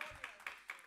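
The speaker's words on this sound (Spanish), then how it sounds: "Dale palmas al Señor" A church congregation claps for the Lord, quick rhythmic claps at an even beat, faint and distant, within one brief second.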